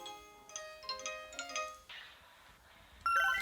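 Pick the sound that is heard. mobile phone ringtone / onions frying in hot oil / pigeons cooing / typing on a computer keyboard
mobile phone ringtone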